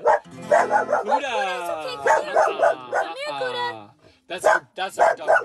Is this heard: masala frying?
no